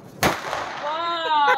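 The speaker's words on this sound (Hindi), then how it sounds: "ये सब अपना मस्त पटाखा फोड़ रहे हैं" A firecracker bursts with a sharp bang on a village road during Diwali celebrations, followed by a whistling, rising rocket-like tone that rings on for about a second.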